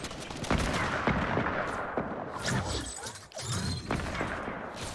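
Gunfire in the video game Fortnite strikes the player, with sharp repeated shots and clattering bursts sounding close and loud over a busy game soundscape.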